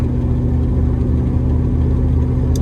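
A 1973 Plymouth Satellite with a slipping transmission driving in second gear, a loud steady low engine drone and rumble from inside the car, with no talk.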